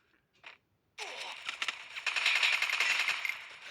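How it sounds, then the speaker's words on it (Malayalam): Rapid automatic MP40 fire in the Free Fire video game: a dense, loud burst of overlapping shots rattles for nearly three seconds after a brief faint blip and a moment of quiet. "MP40 കൊണ്ട് വെടിവെച്ച് കൊന്നു"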